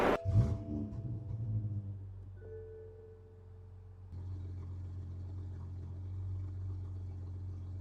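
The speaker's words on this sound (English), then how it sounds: "So now we're going to start the car up and we're going to see what happens." A car with a freshly tuned ECU cranks over and fires up with a loud burst, then settles into a steady, low idle rumble that holds on its own with no talk.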